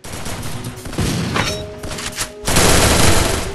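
Explosive gunfire and blasts in the video game Free Fire, including a grenade going off, come as loud bursts and rapid cracks, ending in a heavy sustained blast.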